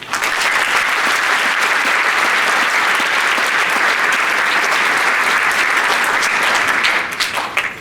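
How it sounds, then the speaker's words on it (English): An auditorium audience at a 2016 National Honor Society induction ceremony gives a loud, dense round of applause that holds steady for several seconds, then thins out toward the end. "Please join me in thanking them with a round of applause."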